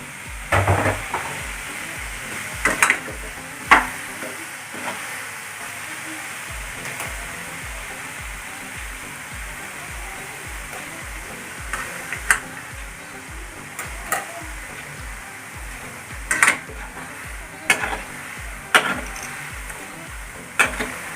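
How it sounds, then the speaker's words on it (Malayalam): Peanuts fry in a pan over a medium flame, giving a steady sizzle with irregular crackles and occasional stirring scrapes over about twenty seconds, no talking. "നമുക്ക് കപ്പലണ്ടി കുറേശ്ശായിട്ട് അതിൽ ഒരു മീഡിയം ഫ്ലെയിമിലിട്ടിട്ട് വറുത്ത് വരിക"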